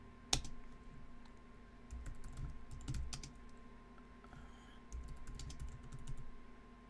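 Quiet, close clicking of computer keys typed in uneven bursts, with short pauses between runs and a faint electrical hum underneath.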